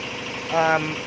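A Toyota Agya car idling with a rough engine note, a steady low running hum with slight vibration, briefly overlapped by someone speaking.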